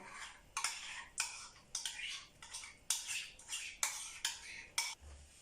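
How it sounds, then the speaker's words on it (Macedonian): Oil, warm milk and sour cream being stirred together in a bowl, a utensil scraping and clinking against the sides in a steady rhythm of repeated strokes, close and moderately loud with no talking. "и сето тоа го мешаме дур не се спојат со стоките"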